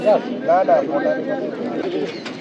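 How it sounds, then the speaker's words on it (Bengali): Pigeons cooing at a busy pigeon market, with soft repeated coos close by and people talking over them. "অনেক কবুতর আছে এখানে দেখেন বন্ধুরা"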